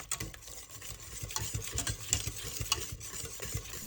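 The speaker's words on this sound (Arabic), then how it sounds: "نضيف علبة من القشطة وملعقة كبيرة سمنة، ونستمر بالخلط لحد ما تتجانس عندنا كل المكونات" Cream filling with a spoonful of ghee is stirred in a pot for Iraqi zunud el-sit pastry, giving a steady, close scraping and swishing with soft wet clicks throughout.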